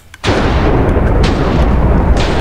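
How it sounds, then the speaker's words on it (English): Cannons fire in a Minecraft Blocks vs Zombies minigame, a loud sustained barrage of booming blasts that starts after a brief quiet moment and keeps rumbling with repeated fresh bursts. "Fire the cannons!"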